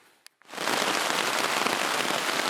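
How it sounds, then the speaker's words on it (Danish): Rain starts suddenly on a shelter in the Swedish wilderness, a few faint taps leading into a dense, steady hiss of drops drumming close overhead. "Det regner, og det tordner"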